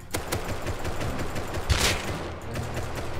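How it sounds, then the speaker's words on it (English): Gunfire rattles in the video game Rust as shots hit a player, a dense run of close rapid shots with one sharper crack near the middle, no talk over it. "Headshot him, body shot him twice."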